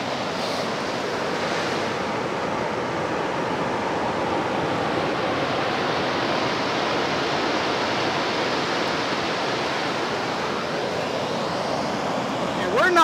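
Ocean surf washes continuously onto Holden Beach, North Carolina, at night, a dense, even roar of breaking waves close at hand that stays steady throughout.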